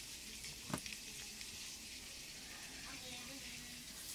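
Flour-dredged pork chops fry in a pan with a steady, soft sizzling hiss throughout, broken by one sharp click near the start.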